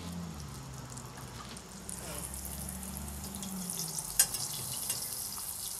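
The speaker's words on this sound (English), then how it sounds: "you drop it in that oil. Drop it in the oil. The oil must be hot enough" Fry bake dough dropped into hot oil sets off a steady, low sizzle and bubbling that continues through the whole stretch, with one brief sharp clink partway through and no voices.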